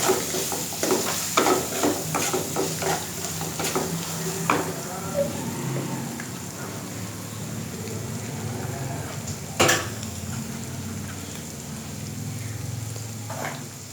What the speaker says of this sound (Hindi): और इसे अच्छे से मिक्स करेंगे।